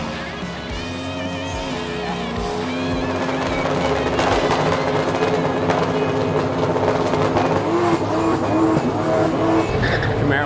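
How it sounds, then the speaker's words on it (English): A Camaro drag races at a Buick GS Nationals event, its engine roaring loudly as the tires spin and squeal on launch, and the noise builds and holds steady over several seconds. "Camaro blew the tire off."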